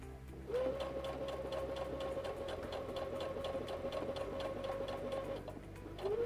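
A sewing machine runs steadily, top stitching a fabric border onto a kitchen towel, with a rapid even needle clatter and motor whine lasting several seconds before slowing to a stop and restarting.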